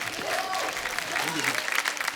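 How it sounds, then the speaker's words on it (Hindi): Studio audience claps for a guest on a comedy talk show, a brief burst of dense applause with voices talking and exclaiming over it. "जोरदार तालियां बनती हैं सुरेश जी के लिए"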